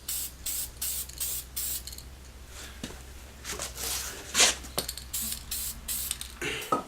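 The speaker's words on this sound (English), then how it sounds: "I'm gonna spray this with the satin black" Satin black paint hisses from a spray can in a run of short bursts and one longer pass, close by, over a low steady hum, with no talking.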